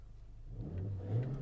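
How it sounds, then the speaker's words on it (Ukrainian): A Volkswagen Golf V car engine turns over and settles into a low, rising idle rumble, close by, with no voices. "Давайте запустимо двигун. Двигун запускається чудово."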